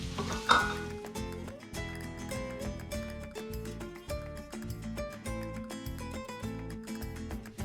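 Garlic and onion fry in a pan with a steady, quiet sizzle, broken by repeated light scraping and stirring clatter in an even rhythm, with no voices.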